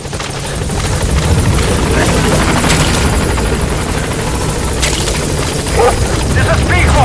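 The Pequod helicopter from Metal Gear Solid V arrives at a landing zone, its rotor churning loud and continuous throughout with a steady heavy thrum and occasional sharper bursts.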